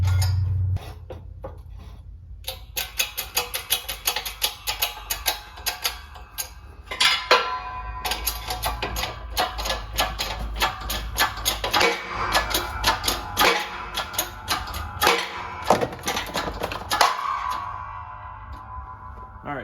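A wheel bearing is pressed into a Honda CR-V front hub with a press tool, giving sharp metallic clicks and ticks in a steady, uneven series, close and moderately loud, with occasional scraping metal contact and no talk.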